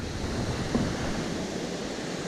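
Water rushes over a waterfall on a river where smallmouth bass are being fished. The roar is steady, broadband and fairly loud, continuous throughout with no voices.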